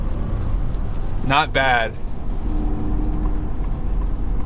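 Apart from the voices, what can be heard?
2026 Ford F150 engine at wide open throttle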